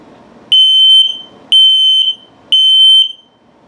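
RV LP gas and carbon monoxide detector running its alarm test, sounding three loud, shrill, piercing beeps about one second apart, each lasting half a second, with quiet room tone between them.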